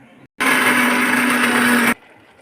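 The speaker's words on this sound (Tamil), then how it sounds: "இஞ்சி பூண்டு அரைச்சி எடுத்துக்கலாம்" A mixer grinder grinding ginger and garlic roars loudly for about a second and a half, starting and stopping abruptly, with a steady high whine.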